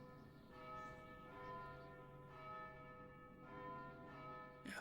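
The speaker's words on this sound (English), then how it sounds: "Yes, the church bells are ringing." Church bells ring in the Vagrant Story video game, a continuous layered peal of overlapping tones swelling and fading in slow waves, steady and fairly loud with no voices.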